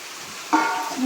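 Partway through, a dry rustling patter starts as roasted rice flakes tumble into a hot pan, with a soft sizzle continuing afterward.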